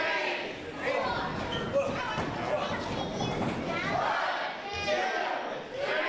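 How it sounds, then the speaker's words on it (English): A pro wrestling crowd in the VIPW arena chanting and counting along in rhythmic loud bursts, with youthful voices and shouts mixed in and a couple of thuds under the noise. "And the crowd counting along here in the VIPW arena."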